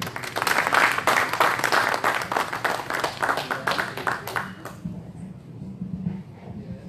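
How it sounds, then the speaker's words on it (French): A church congregation claps in quick rhythmic applause at a pastors' anniversary service, loud and dense at first, then fading out after a few seconds into a quieter room. "Applaudissez Moïse à ce moment-là."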